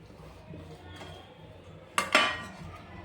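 A spoon mixes potato dabeli filling with masala peanuts in a pan, giving soft scraping stirs and then a couple of sharp metallic clinks against the pan's side at close range.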